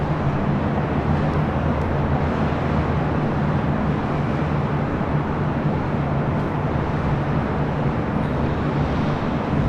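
A large airliner rolls down runway 25 Left at LAX, a continuous broadband roar of jet engines heard from a distance, steady and unbroken with no talking.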